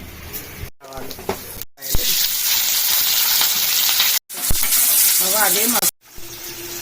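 Onions and urad dal frying in oil for a tempering, a steady broadband sizzle with brief gaps, while a voice talks intermittently over it.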